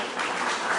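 A church congregation breaks into applause, a dense, steady wash of clapping that fills the short moment without any voices over it.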